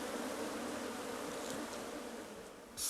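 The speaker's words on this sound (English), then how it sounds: "Bees from all over the apiary are joining the attack." A swarm of honey bees attacks at an apiary in 35-degree heat, and their dense, steady buzzing drones loud and close throughout with no voices.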